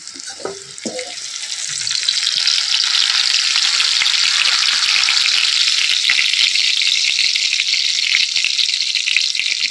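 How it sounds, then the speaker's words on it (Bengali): Loud, steady sizzling of pointed gourd frying in hot oil, starting after a brief clatter and continuing without pause, close by. "তো পটলটা আমার ভাজা হয়ে গেছে সুন্দরভাবে"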